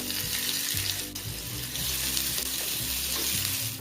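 Green chili and ginger sizzle with cumin seeds in hot oil, a steady, dense frying hiss close up, broken by a few soft knocks of a spoon against the pan.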